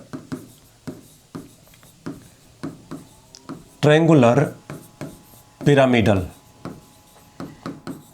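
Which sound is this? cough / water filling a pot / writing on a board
writing on a board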